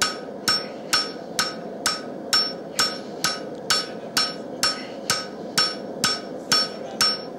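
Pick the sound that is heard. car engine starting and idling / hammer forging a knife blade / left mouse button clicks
hammer forging a knife blade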